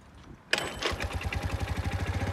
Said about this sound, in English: Now let's turn on the Scooty by kickstart as the battery is weak.